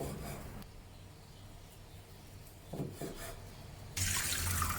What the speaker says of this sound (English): Pour the broth through a wire mesh strainer to remove any small bones and debris.